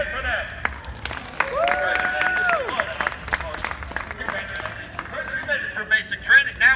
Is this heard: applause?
yes